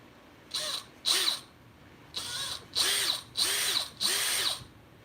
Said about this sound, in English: We're not drilling all the way through it. We're just taking the head off of that rivet.